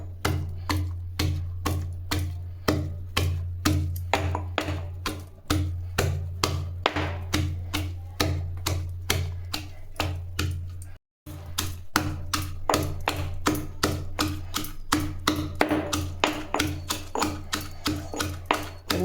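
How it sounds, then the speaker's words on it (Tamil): Garlic cloves pounded by hand with a pestle for a village-style fish curry, a steady run of sharp rhythmic thuds repeating about twice per second, close and clear with one brief pause. "அது கூடவே ஒரு பதினஞ்சு பல் பூண்டு போட்டுக்கலாம் நல்லா இடிச்சு எடுத்துக்கலாம்"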